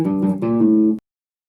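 Electric guitar plays the second half of a riff, two or three quick low-string notes ringing close and alone, then cut off abruptly into silence.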